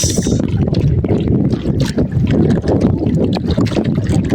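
Strong wind buffets loudly and continuously over a small paddled fishing boat, a rough roaring gust with water sloshing beneath it.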